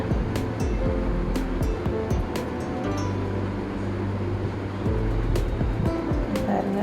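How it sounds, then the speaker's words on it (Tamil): Tilapia fillets coated in masala fry in hot oil in a pan, giving a steady, dense sizzle and crackle that runs throughout, with a few sharper pops along the way. "இப்போ நம்ம பரட்டி விட்டுக்கலாம் மீனை"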